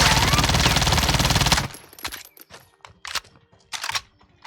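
A MAC-10 submachine gun fitted with a foregrip fires a sustained loud automatic burst in a video game, followed by scattered clinks, clicks and faint shuffling handling sounds.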